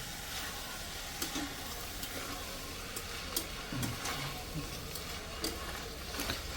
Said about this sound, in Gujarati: હવે અંદર કાળા વટાણા નાખી દો